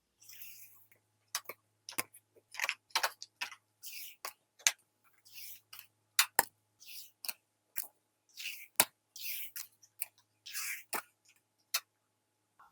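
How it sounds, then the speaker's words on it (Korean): Tarot cards being drawn and shuffled for a reading, giving quiet, crisp repeated flicks and taps of card stock in an irregular rhythm, close and soft with a faint low hum underneath. "우선 카드 먼저 뽑아 볼게요"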